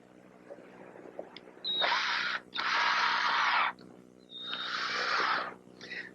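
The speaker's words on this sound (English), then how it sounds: "now I'm going to attach the template with a couple screws" Screws driven into wood to fix a router template in a workshop, three loud sustained buzzing bursts from a close driver, separated by short pauses, no talking.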